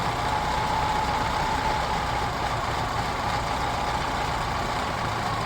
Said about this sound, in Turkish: Bakın şimdi aracı stop ettiği noktaya getiriyorum.